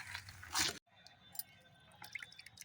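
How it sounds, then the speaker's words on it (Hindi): A small amount of water poured onto freshly filled soil in a hibiscus pot gives soft dripping and squishing sounds, close and quiet, with a brief louder splash near the start before faint trickles. "अब हम इसमें पानी डाल दे रहे हैं थोड़ा सा, ज़्यादा पानी हमें नहीं डालना है।"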